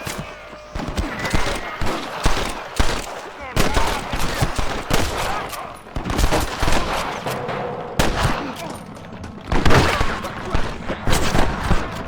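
Dense gunfire in the Red Dead Redemption game, rapid cracking shots and bursts overlapping near and far, loud and nearly continuous, with voices shouting among the shots.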